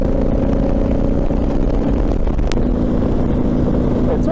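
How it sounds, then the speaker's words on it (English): A Yamaha Virago motorcycle engine idles steadily with a low, continuous rumble, recorded close and without a break, under light wind. "I reckon this bike sounds so good"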